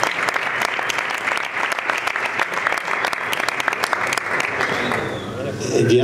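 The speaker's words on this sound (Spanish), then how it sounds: "Damos un aplauso." Applause from the audience at a networking event with sponsors of Xerez Deportivo FC, with loud, close, sustained clapping from a crowd of hands and a voice speaking over it near the end.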